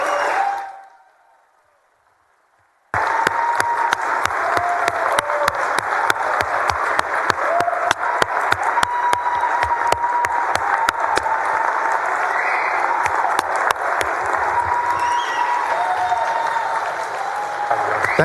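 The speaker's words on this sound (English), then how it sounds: "let us give you an applause for being at your state capitol" Gallery visitors in the Texas Senate chamber break into applause after a brief silence, a broad continuous wash of clapping that holds steady for about fifteen seconds with faint voices underneath.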